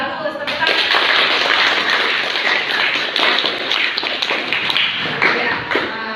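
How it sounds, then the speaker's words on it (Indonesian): Students in a high school accounting class applaud a classmate with continuous, fairly loud clapping for several seconds, while voices are heard at the start and underneath. "Tepuk tangan."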